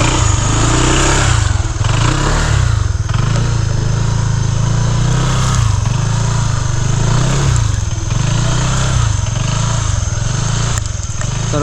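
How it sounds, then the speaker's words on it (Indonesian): A motorcycle engine revs loudly and continuously on a mountain trail, its pitch rising and falling in repeated surges from close by. "Raset motornya."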